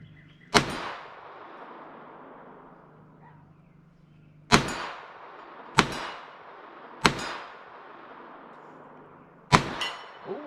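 .22LR shots ringing off steel range targets, with five sharp cracks at uneven intervals, each followed by a metallic clang and a short decay over a low background hum.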